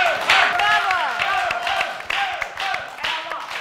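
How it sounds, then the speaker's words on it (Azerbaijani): Studio audience claps for a guest on an Azerbaijani TV talk show, a steady patter of applause running under music and loud overlapping voices. "Buyur Sərxan Kərəmoğlu alqışlayaq"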